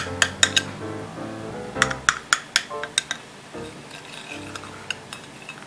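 Homemade rice cake being cut into a piece, a series of sharp clinks and taps of utensil against dish, clustered early and then thinning out, fairly close with no talk.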